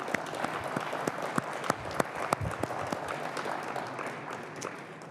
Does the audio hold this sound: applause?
yes